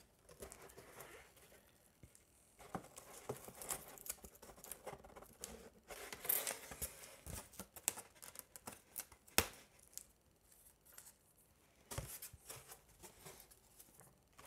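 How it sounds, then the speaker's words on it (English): Blue masking tape peeled by hand from the trailing edge support piece of a model aircraft wing, giving soft, intermittent ripping and crinkling close by, quiet and uneven over several seconds. "I'm going to remove the blue tape from this trailing edge support piece."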